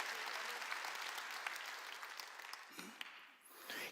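A church congregation claps together in dense, steady applause that fades in the final moments, close and fairly loud, with a few voices faintly mixed in.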